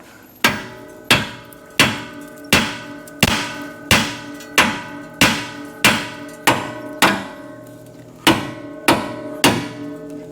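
A hammer strikes a steering component on a Ford F-350 again and again, about a dozen loud, sharp metallic blows at a steady pace of roughly one per second, each ringing briefly before the next.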